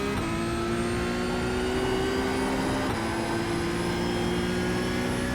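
A Porsche GT3 Cup race car held at full throttle around Suzuka in iRacing, a loud sustained high engine whine that holds a steady pitch with a brief dip near the middle.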